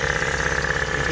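A Datsun L20B four-cylinder with a newly fitted Weber 32/36 carburetor and points ignition idles close by, giving a loud, steady, even rumble with a constant hum and no pauses.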